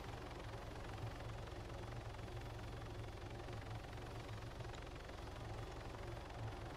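A helicopter in the Arma 3 military video game sounds a steady, low, thrumming rotor and engine drone, continuous and fairly quiet throughout with no talking.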